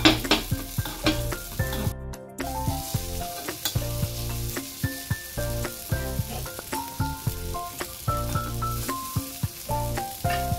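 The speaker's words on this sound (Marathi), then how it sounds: "आता आपली एक साइड व्यवस्थित झाली आहे, तर आपण आप्याला पलटून घेऊया" Mixed dal appe fry in an appe pan, a steady soft sizzle under repeated light metallic taps and scrapes as the dumplings are turned over one by one.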